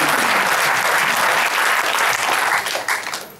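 Loud, dense applause from a seated audience at a local candidates' event, a sustained wash of many hands clapping that begins to thin out toward the end.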